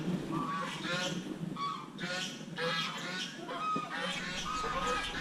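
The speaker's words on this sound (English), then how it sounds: "look at these geese here." Geese at a park in Banyuwangi, East Java, honk repeatedly in overlapping, fairly loud calls that carry on through the whole stretch without pause, close by, with no voices over them.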